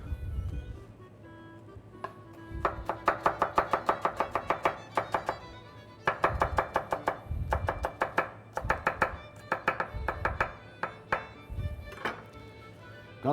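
Fresh dill and tarragon are chopped with a knife on a cutting board while Armenian herb-stuffed eggs are being made. The close, crisp chops come in rapid rhythmic bursts, with brief pauses between runs, and no one speaks.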